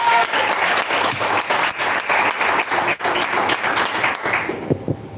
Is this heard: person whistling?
no